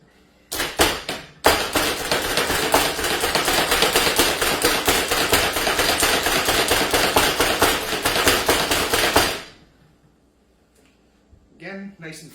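An onion being finely chopped with a knife on a cutting board while making pico de gallo, heard as a long run of rapid, loud, evenly spaced chops up close, then stopping abruptly into near silence with a few faint clinks at the end.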